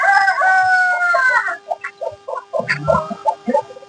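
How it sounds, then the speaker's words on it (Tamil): A rooster crows loudly nearby, one long drawn-out call, followed by softer clucks and scattered bird calls. "நம்ம அரண்மனை சேவல் வந்து அந்த பக்கம் மேய்ஞ்சிட்டு இருக்கு"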